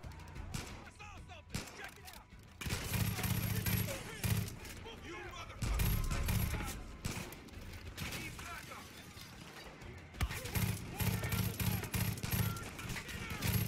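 Rapid gunfire with heavy recoil in the Far Cry 5 video game, with repeated bursts of shots crackling amid loud combat noise and several pauses, while a player talks over the action.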